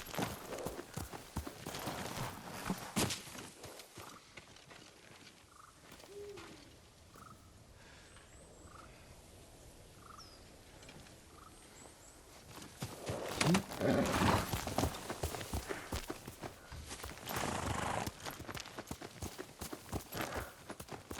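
Horse hooves clip-clop in Ghost of Tsushima, sounding as steady, moderately loud hoofbeats at the start and again near the end, with a quieter stretch in between where birds call faintly.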